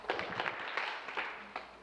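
Audience applause fills a school hall for a middle school poet at a poetry slam, a soft, distant patter of clapping hands with no voices over it.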